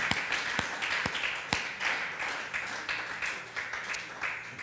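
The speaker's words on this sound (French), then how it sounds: "Applaudissons le Seigneur." A church congregation at a Sunday service claps along in a loose rhythm, distinct sharp claps standing out over a steady wash of applause.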